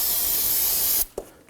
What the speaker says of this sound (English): Give it a spray with some spray solvent.